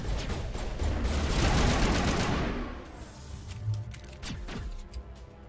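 A sniper rifle firing in the video game Mass Effect Legendary Edition: a loud, dense burst of gunfire fills the opening seconds and dies off into a rumbling tail, then a few fainter shots and impacts follow.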